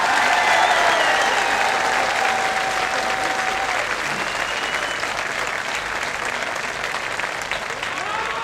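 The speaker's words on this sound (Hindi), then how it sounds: "उस ईमानदार अफसर के लिए ताली बजाएं।" An outdoor rally crowd at Jantar Mantar claps in prolonged applause for an honest retired officer, a dense, steady wash of many hands that holds strong for several seconds and slowly thins, with a faint voice beneath.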